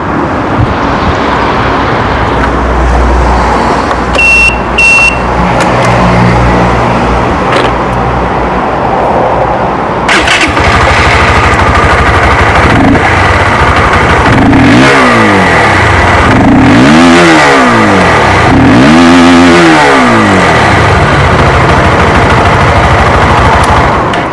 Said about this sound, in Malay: Ini pula bunyi motor FR150.